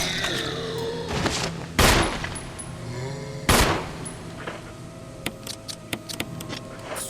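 Pistol gunfire in Resident Evil on Switch: a few loud, sharp shots spaced apart, then a quicker run of lighter cracks, over a low droning game ambience, with no talking.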